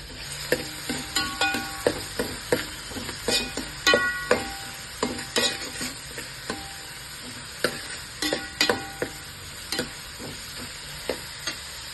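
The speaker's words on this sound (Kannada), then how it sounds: "ಈಗ ಎಣ್ಣೆ ಕಾದಿದೆ, ಈರುಳ್ಳಿ ಹಾಕ್ಕೊಳ್ಳೋಣ." Onions sizzle in hot oil while a spoon scrapes and stirs the pan in repeated sharp strokes, a close, constant frying hiss beneath the irregular clatter.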